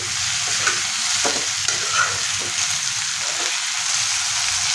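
Brinjal pieces sizzle steadily in hot oil in a pan for a drumstick curry, a loud continuous hiss with a few soft stirring knocks scattered through it and no voices.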